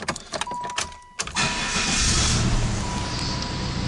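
A car engine turns over and then runs steadily with a broad rumbling roar, fairly close, after a few brief clicks and knocks.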